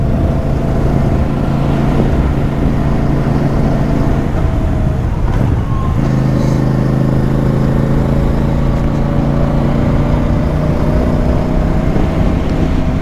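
A CFMOTO 450 CL-C motorcycle ridden at low speed, its engine droning loudly and steadily with a brief change in note midway, heard without talk.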